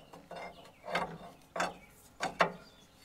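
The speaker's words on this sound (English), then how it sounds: "So let me grab a pry bar and we'll try and maybe disengage that first. All right, let's pry down on this." Pry bar levering down on a stuck part of an old 1965 Allis loader, giving four close, creaking metallic groans at uneven intervals, with no talk.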